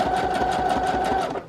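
Domestic sewing machine running a zigzag stitch, sewing a pocket onto a junk journal envelope folio: a steady, close, rapid whirring hum with fast rhythmic needle pulses, running alone and easing off at the end.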